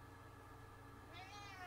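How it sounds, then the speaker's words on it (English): An old house cat gives one rising, drawn-out meow near the end, fairly faint beneath a steady hum from a live-stream room. "we may have an impromptu visit from my cat who is making noise over here"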